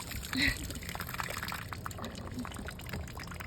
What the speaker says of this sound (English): I tried tying it on tighter, but it all floods out right there, and none of it exits out the hose